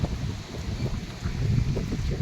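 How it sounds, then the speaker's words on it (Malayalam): Strong wind gusting outdoors just after rain in the UAE, a steady broadband roar buffeting the microphone throughout, with no voices. "നല്ല കാറ്റും അടിക്കുന്നുണ്ട്"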